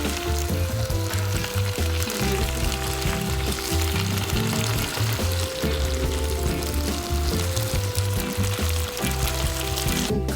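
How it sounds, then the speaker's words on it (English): Vegetables folded into ackee sizzle loudly and steadily in a pan for a Jamaican breakfast, with a continuous close frying hiss and occasional stirring scrapes. "So you just lightly fold in the vegetables into your ackee."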